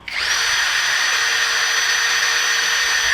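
A Xenon X-CDID707N brushless cordless impact drill spins up at its lowest speed setting and holds a steady, loud, high-pitched whine for about three seconds, close and alone, with no voices.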